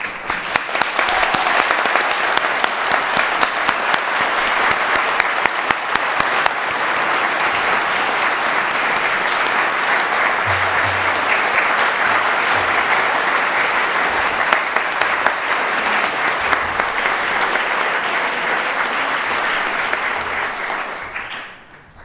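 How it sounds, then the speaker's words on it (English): Audience at the Federation for Jewish Philanthropy Mitzvah Heroes Awards applauding the honorees, a loud, dense, sustained wash of clapping that holds steady for about twenty seconds before tapering off at the end. "We applaud you all for your efforts to enrich our community and our world."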